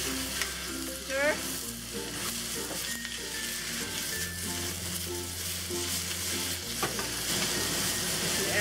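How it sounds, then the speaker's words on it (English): Tofu, snow peas and oyster mushrooms stir-fried in a wok with sesame oil, giving a loud continuous sizzle broken by scraping and tossing strokes, close by with no speech. "We'll add the snow peas. And add a quick stir."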